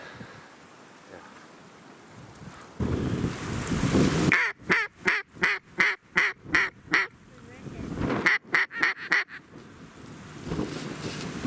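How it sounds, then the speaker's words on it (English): Gadwall ducks quack in a burst of rapid repeated calls, loud and close during a duck hunt in windy, wet conditions, with rustling and people talking around them. "Those are gadwall."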